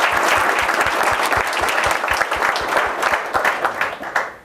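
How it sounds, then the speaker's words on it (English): An audience applauds panelists at an evening business sustainability event, a dense burst of clapping that fills the room and tapers off toward the end. "Please, let's give a round of applause to the panelists."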